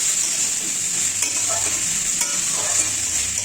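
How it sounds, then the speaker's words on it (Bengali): Water lily stems squeezed and dropped into hot oil, cooking with fish head, give a steady bright sizzle and hiss that stays loud throughout, with a few faint stirring scrapes and no voices. "শাপলাটা চিপে দিয়ে দিলাম তেলের মধ্যে"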